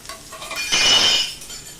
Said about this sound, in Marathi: आता हा जो कांदा आहे हा परतवण्यासाठी याच्यामध्ये घालून घेते